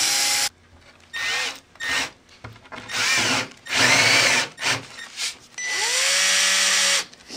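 Power drill countersinking screw holes in a wooden crosscut sled, a series of short loud whirring bursts separated by brief pauses, close up with no talk.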